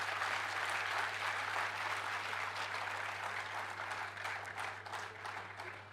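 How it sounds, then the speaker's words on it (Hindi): Sustained applause from a large crowd at a business and leadership conclave, dense and steady clapping that stays loud throughout, with a low electrical hum beneath. "बहुत सुंदर तालियों के लिए आपका विशेष धन्यवाद"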